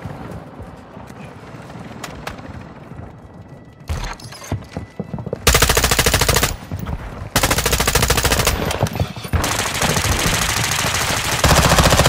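Rapid automatic gunfire in a military shooter video game during a hostage rescue at final extraction, starting with sparse shots and then bursting into loud, sustained volleys.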